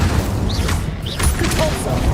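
Confringo and Incendio spell blasts from the Hogwarts Legacy video game: dense, rumbling booms with brief whooshing sweeps that run continuously through a short stretch of fiery magic combat.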